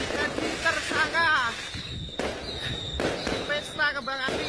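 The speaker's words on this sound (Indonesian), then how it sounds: "Pesta kembang api di Pendopo." Fireworks burst repeatedly at a public celebration at the regency hall and town square, sharp cracks sounding at intervals beneath near-continuous talk and crowd noise.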